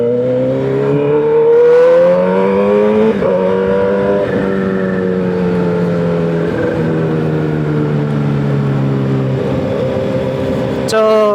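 A motorcycle engine runs steadily nearby, a loud even drone with a couple of small rises and dips in pitch as the throttle shifts, and a person talks faintly underneath.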